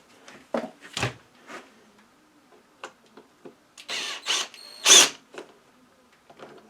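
A power drill drives screws into a Poulan Pro BVM200 blower, with short bursts of whirring motor and ratcheting clicks in uneven spurts, close and fairly loud.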